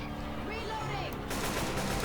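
Gunfire in the Left 4 Dead 2 zombie shooter, a dense burst of shots that swells louder after the first second, mixed with game noise and a voice talking over it.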